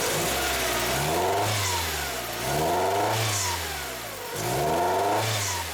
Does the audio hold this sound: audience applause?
no